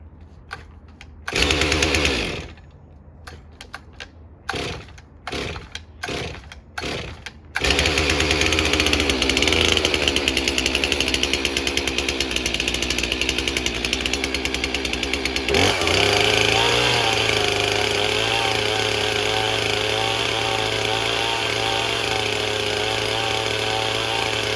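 A new Stihl MS362c chainsaw with a bogging fault, first sputtering in short uneven bursts, then running loud and steady but failing to rev, its pitch shifting and dropping partway through.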